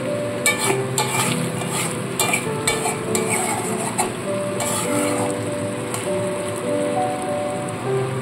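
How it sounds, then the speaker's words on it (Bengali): Pieces of pointed gourd (potol) turned with spices in a pan, giving a continuous close scraping and sizzling with sharp clicks of the spatula against the metal, no voices. "দেখুন সমস্ত পটলে মশলাটা খুব ভালো করে মিশিয়ে নিয়েছি"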